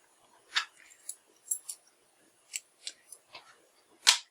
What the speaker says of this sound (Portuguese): E agora, vou cortar aqui o fio verde.